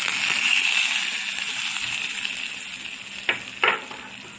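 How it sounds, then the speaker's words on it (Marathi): Red chili, cumin and mustard seeds sizzle hard in hot oil for a dal khichdi tempering, a steady bright hiss with a couple of sharper crackling spurts near the end. "वरतून लाल मिरची, जिरं आणि मोहरीची फोडणी देणार आहे"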